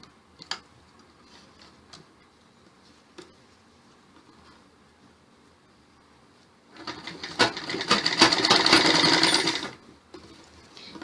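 Sewing machine stitching the waistband fabric of a belted salwar, a short burst of rapid mechanical whirring after scattered ticks and handling clicks, loud and close.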